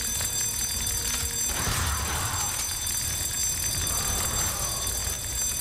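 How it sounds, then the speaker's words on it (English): A bell rung repeatedly in the video game Resident Evil Outbreak to draw blind Lickers, loud bright ringing sustained over a steady game backdrop, with no voices. "So just ring the fuck out of that bell."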